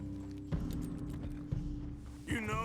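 Horse hooves clip-clop at a steady riding pace in the video game Red Dead Redemption 2, fairly quiet and mixed under game dialogue and background sound.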